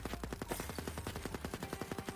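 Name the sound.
gunfire of splitting multi-bullet weapon in video game Erosion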